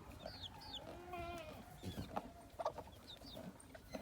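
A bantam miniature game hen clucks on a farm among other livestock, soft scattered clucks and calls against a noisy outdoor background, fairly faint.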